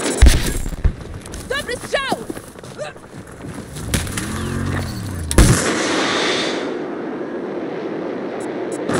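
Missile strikes in Battlefield 2042 conquest assault combat, sharp explosive bangs and crackling blasts amid whistling and warbling game effects, ending in a sustained rumbling roar.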